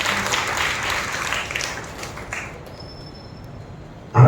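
Church congregation applauding during a Sunday worship service, a dense burst of many hands clapping that fades out over a few seconds, leaving quiet room noise before a sudden thump at the end.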